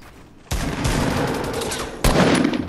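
Rapid gunfire in a multiplayer shooter game, a dense sustained burst starting abruptly, then a second sharper volley near the end, loud and close.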